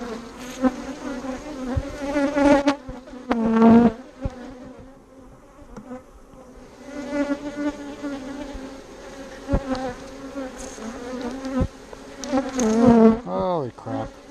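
Honey bees from a defensive hive, opened for a check of queen cells, buzz loudly and close by, their drone rising and falling, with a few stronger passes near the microphone.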